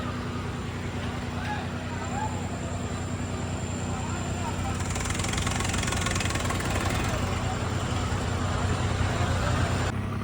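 Several tractors idling together with fuel tanks filled, a loud continuous diesel rumble and knock throughout, close and unbroken.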